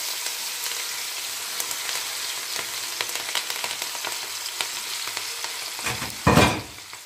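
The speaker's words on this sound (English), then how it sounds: "I will let it all to fry together with my curry leaves." Steady, close sizzling of spices and curry leaves frying in hot oil for vegetable biryani, with crackles throughout and a brief louder hiss near the end.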